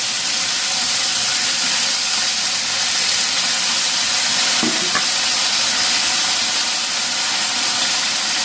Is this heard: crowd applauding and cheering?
no